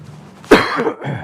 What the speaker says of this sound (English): Sorry, cough in your ear.